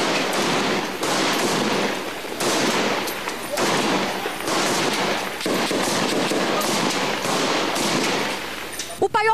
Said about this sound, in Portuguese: Foram mais de 3 horas de intenso tiroteio.